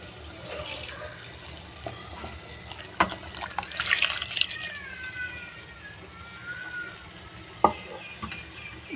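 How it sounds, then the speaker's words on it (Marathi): Water pours and splashes as it is drained off soaked rice, a soft, uneven liquid trickle close by with a few brief clinks and louder splashes mid-way. "त्याआधी या तांदळावरचे सगळं पाणी काढून घेऊयात।"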